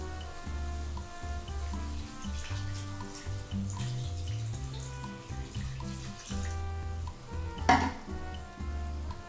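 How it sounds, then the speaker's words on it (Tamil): About 500 ml of water pours and splashes into a pot of mutton curry with a steady gurgle over a low hum, with one brief louder splash near the end. "கரெக்டாக 500 ml வந்து தண்ணி ஊற்றிக்கோங்க"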